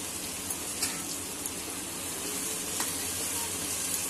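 Onions frying in hot spiced oil for a moong dal dish, a soft continuous sizzle close by with occasional faint taps and stirring noises, fairly quiet and even.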